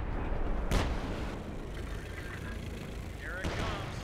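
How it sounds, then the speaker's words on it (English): Howitzer artillery barrage in Company of Heroes 2 on a battlefield: a sharp loud boom early on, then rumbling distant fire and a second burst near the end, over continuous low battle noise. "114 howitzers are prepped to barrage the battlefield"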